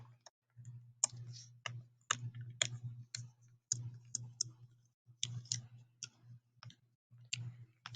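Writing out a math problem, heard as irregular light clicks and taps from the writing tool against a steady low hum, close and intermittent, with no speech.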